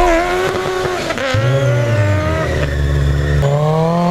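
A Ford Escort MK2 race car fitted with a Honda CBR900 motorcycle engine screams loudly at high revs, pitch rising and dropping through gear changes as it races close by.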